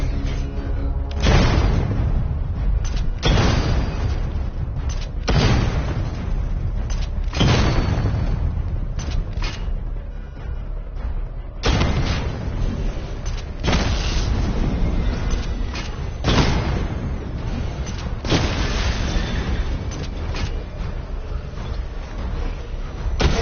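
Heavy explosions and weapon fire in a video game simulation with missile barrages, loud repeated deep booms arriving every few seconds over a constant rumbling bed, with no speech.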